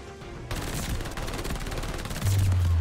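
PPSh submachine gun in Call of Duty: Vanguard, a close, loud, continuous rapid burst starting abruptly after a quiet lead-in and running steadily to the end with a heavy low rumble.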